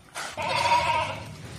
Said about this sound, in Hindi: दो बच्चों वाली बकरी है, बहुत जबरदस्त अच्छी बकरी है माशाल्लाह से।